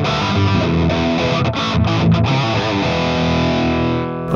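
Distorted electric guitar playing a classic rock tone through an Axe FX 3 amp and cabinet model, continuous loud chords and notes with no talk.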